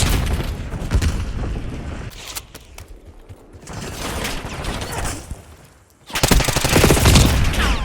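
Rapid gunfire bursts and a heavy grenade-like blast from a Black Ops 6 team deathmatch match, loud and close, with dense mechanical clatter that drops briefly before a final loud burst of shooting.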